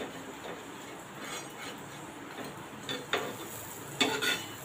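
Corn paratha made with wheat flour cooks on a pan with butter over medium-low heat, giving a soft steady sizzle with a few light clinks of a utensil against the pan.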